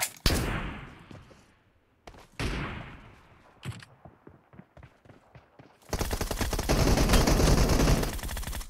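Automatic gunfire in a team deathmatch video game, with short rapid bursts and single shots separated by gaps, then a long, loud sustained volley at the end.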